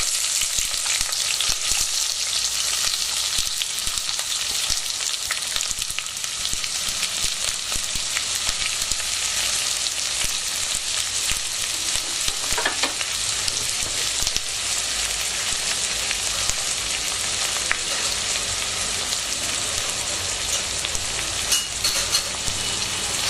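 Chopped onions sauté in hot oil in a pan on low heat while chicken or prawn biryani is being prepared, giving a steady, close, continuous sizzle with faint stirring scrapes and no talking.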